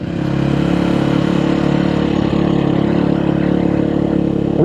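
A Sherco SEF 450 motorcycle engine runs steadily nearby, a loud, even mechanical idle with a faint clattering texture, heard alone without voices.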